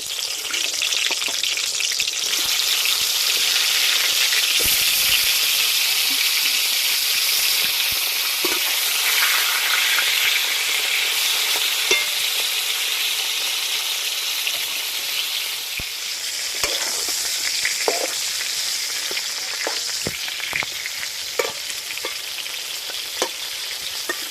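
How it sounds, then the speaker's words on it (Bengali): Pieces of pointed gourd (potol) frying in white oil in a hot kadai, a loud, dense, unbroken sizzle close by with faint stirring scrapes throughout; no talk. "এবার পটলগুলো ভেজে নেব"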